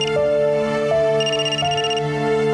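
A phone rings with a looping electronic ringtone melody, loud and steady, with repeating tonal phrases and no voices over it.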